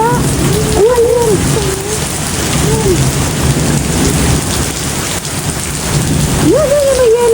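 Hail pours down during a summer storm with heavy rain, a loud, dense, continuous roar of pelting ice and water, while voices speak over it and rise in pitch at moments.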